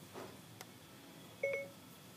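An Apple iPhone 6 gives a short, clear two-tone electronic beep as Siri activates, a single quiet chime standing alone in an otherwise hushed room.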